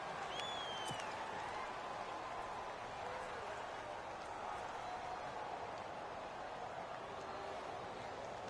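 A large crowd roars steadily inside an NFL stadium before the Atlanta Falcons play the New York Giants, a dense continuous wash of cheering with scattered whistles and no clear talk.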